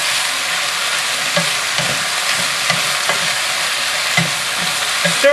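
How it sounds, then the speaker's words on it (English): A big pan of vegetables, about five cups, fries for an Asian-style beef stew while a utensil stirs them, with regular scraping strokes roughly twice a second over a continuous close sizzle. "Here, give them a quick stir."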